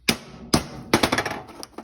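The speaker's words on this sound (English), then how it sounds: "Tap it with a little hammer." A small hammer taps a seized Ford F150 spare tire lock: three sharp metallic knocks spaced evenly, then a quicker cluster of lighter taps, close and crisp with no talk.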